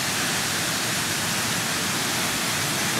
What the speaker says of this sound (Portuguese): Essa daqui é a cascata do Molundu.